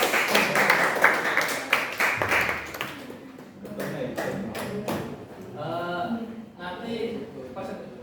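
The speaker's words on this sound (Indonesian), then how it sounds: "Semangat dan tepuk tangan untuk kelompok." Classroom applause for a student group that has just presented, a burst of hand clapping from a small crowd that fades out and gives way to talking.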